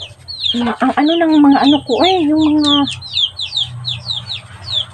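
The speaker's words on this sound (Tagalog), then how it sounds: "yung mga maliliit na mga manok ba, sobrang ingay nila mga inday" Small chickens clucking and chirping noisily nearby, with a voice speaking over the first half, then a run of quick high cheeps continuing after the talk stops.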